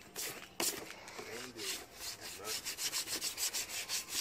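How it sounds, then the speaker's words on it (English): A car part is sanded by hand for black paint during widebody work, with repeated rhythmic rubbing strokes that quicken toward the end, close and fairly quiet. "So you're sanding the shit down, painting it in black"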